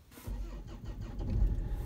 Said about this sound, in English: So if I now start the engine